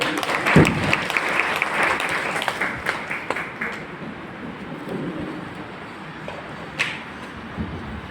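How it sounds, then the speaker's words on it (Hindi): Audience applause welcoming Basavaraj Patil to the stage at a political gathering, a burst of clapping that peaks early then thins into scattered claps and crowd murmur, with a few louder knocks near the end. "आप सभी ताली से स्वागत करेंगे।"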